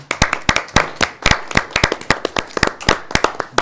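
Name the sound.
applause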